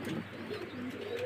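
Pigeons, including a prize exhibition-quality male, coo softly and repeatedly, a steady low murmuring close by with no talking over it.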